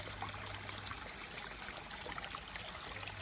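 Water trickles steadily down a homemade garden pond stream fed by a cheap sump pump, a soft continuous babble with no one speaking.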